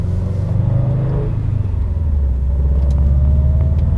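A 2016 Subaru WRX STI drives with a steady, low engine rumble and road noise from inside the cabin, which swells slightly as it accelerates, with no talking.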